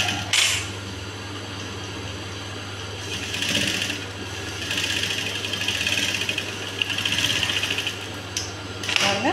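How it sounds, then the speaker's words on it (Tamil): A sewing machine stitches a blouse in a close, continuous mechanical whir, rising and easing in short runs, with a brief clunk at the start and end. No one speaks. "இப்போ நம்ம தையல் போட்டு எடுத்துக்கலாம்."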